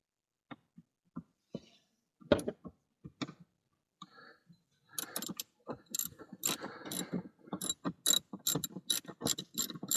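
A hand ratchet snugs down the air filter housing bolts on a 2012 Chevrolet Silverado, starting with sparse single clicks and then breaking into fast, close, repeated ratcheting bursts, with no one speaking.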